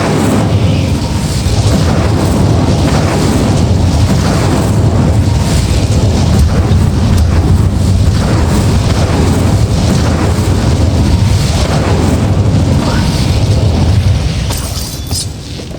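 In Hogwarts Legacy, the Incendio fire spell is cast, producing a loud, continuous roaring blast of flame with deep booming rumble that holds steady for many seconds before easing off.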